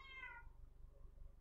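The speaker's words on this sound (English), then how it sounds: "That is my cat you can hear in the background." A house cat meows once from another room, a clear drawn-out cry fading within half a second, followed by a faint low rhythmic thumping. No one speaks.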